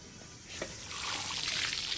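Water is poured into a pot of freshly shelled peas, a soft trickle that swells into a fuller, steady rushing pour over about two seconds.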